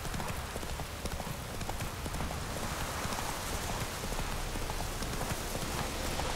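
Geralt's horse Roach in The Witcher 3 trotting with a dense, steady clip-clop of hooves over a constant rain-like hiss, loud and continuous.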